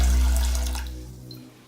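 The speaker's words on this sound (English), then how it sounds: "we're going to just put a bit of water" Water pours from a tap into a pot of washed rice, a loud gushing stream that tapers off and fades out near the end.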